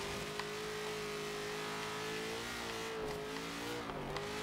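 A car in the racing game Forza Horizon 3 drives with a steady engine drone, pitch rising and dipping through gear changes, sustained and close throughout.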